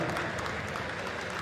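A short stretch of steady applause from a crowd at a FIFA 19 esports tournament final during the prize presentation, dense clapping at an even level with no break.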